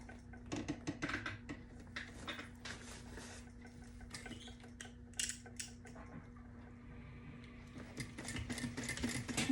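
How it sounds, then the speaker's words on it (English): A sewing machine stitches a tote bag along a 3/8-inch seam, making a quiet, rapid, steady run of needle clatter with a few brief pauses and a final faster burst. "I'm going to be stitching"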